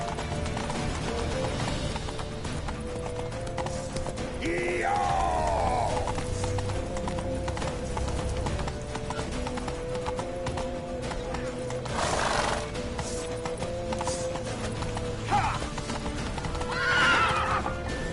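Horses in a PS4 action game gallop with steady, close clip-clop hoofbeats throughout, while loud whinnies and neighs break out several times over the running rhythm and game ambience.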